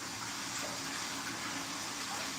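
Water runs steadily from a kitchen tap while something is rinsed under it during lemon cake baking, a constant soft hiss that stays even throughout with no talk.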